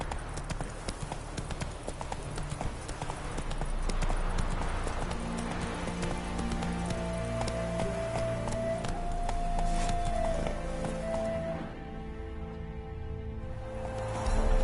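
Roach, a horse in The Witcher 3, galloping with steady rhythmic hoof clip-clops over a continuous game soundscape and music, a brief whinny-like tone midway before the hoofbeats fade.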